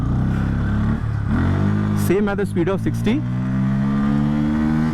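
Honda SP160 motorcycle engine running steadily at speed, with a brief revving rise and dip as the rear brake is tested, under someone talking throughout.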